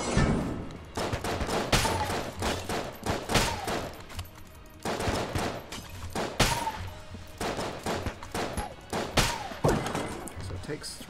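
Repeated gunshots from the marine sidearm in Enter the Gungeon, a rapid run of sharp, evenly spaced shots over game music and effects.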